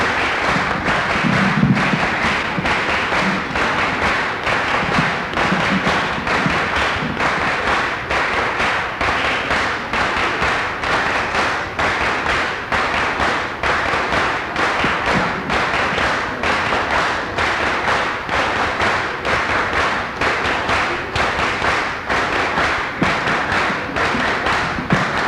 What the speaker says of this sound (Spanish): Recibamos con el aplauso que se merece nuestro compañero Miguel Angelat Quiroz.